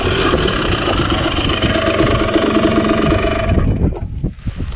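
A dirt bike engine runs close by with a loud, rough, throbbing idle, revving slightly before the note drops and wavers toward the end, out on sandy desert trails.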